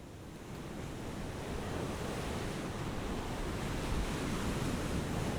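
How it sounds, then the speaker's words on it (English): Sea waves crash steadily on the shore at Big Sur, a dense continuous roar of surf with some wind, heard alone without voices. "write these sea sounds"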